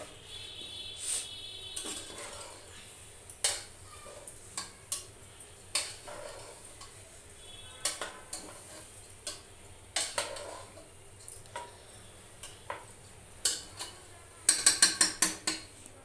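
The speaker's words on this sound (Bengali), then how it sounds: "এবার ডাকটা খুলে এগুলোকে নেড়ে ছেড়ে দেবো" Khichuri with egg cooked over a charcoal stove: a pot lid is lifted and metal clinks and scrapes as the contents are stirred, scattered sharp ticks and knocks at a close, moderate level with a quick flurry of clatter near the end.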